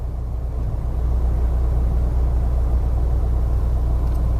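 A car engine idles with a steady low rumble as the vehicle slows to a stop on a rural road in Wayanad, loud and close throughout, with no voices.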